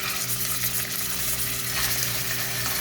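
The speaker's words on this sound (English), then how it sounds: "to fry it with the onion and the garlic" Minced meat frying with onion and garlic in cooking oil, a steady, close sizzle that runs unbroken with faint stirring and a low background hum, no talking.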